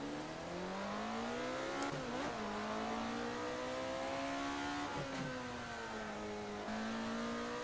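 A race car engine in a racing video game revs continuously with rising and falling pitch through gear shifts, loud and steady, with a brief tire squeal and one short spoken word.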